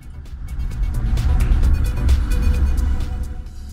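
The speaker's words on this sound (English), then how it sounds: "you learn how to let the CLA45 drift through some of the easier S's at Bilster Berg" A 2014 Mercedes-Benz CLA45 AMG drifting through S-bends on the Bilster Berg circuit, its engine a steady, loud low roar with rasping harmonics, close and continuous throughout.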